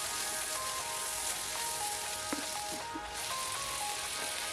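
Small diced potatoes fry in masala with whisked yogurt for beef aloo keema, giving a continuous loud sizzle broken by occasional sharp pops and crackles.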